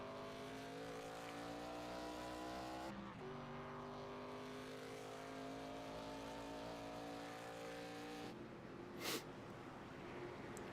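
Race cars on track in iRacing at Daytona, steady engine drone with a strong harmonic pitch that shifts as cars run behind a pace car, at a faint, even level throughout.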